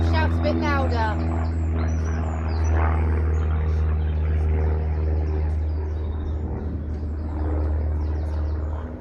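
An airplane drones overhead outdoors, a constant low rumble that stays loud and steady throughout, with faint vocal sounds near the start.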